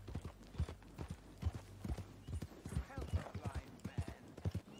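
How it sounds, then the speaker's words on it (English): A riderless horse clip-clops past with steady hoofbeats, loud and close, under talk. "that was just a horse going past on its own, there was nobody on its back"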